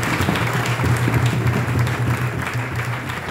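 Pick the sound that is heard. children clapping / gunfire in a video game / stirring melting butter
children clapping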